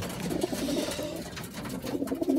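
Pigeons coo softly and continuously in a racing-pigeon loft, several low murmuring calls overlapping against a busy, noisy background.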